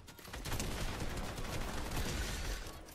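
Gunfire in the Fortnite video game, a dense, continuous burst of overlapping shots and crackling impacts that stays loud and busy for the full few seconds.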